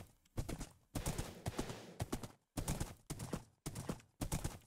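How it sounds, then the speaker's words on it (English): Rapid rhythmic horse hoofbeats clip-clopping in quick bursts with short gaps in the video game Minecraft, close and fairly loud, without speech. "I have my very own horse."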